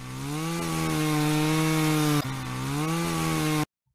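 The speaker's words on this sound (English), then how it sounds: "You can hear a chainsaw sound." A chainsaw runs in the Roblox game Liberty County with a loud, steady buzzing drone that briefly dips in pitch and recovers twice, then cuts off abruptly into silence.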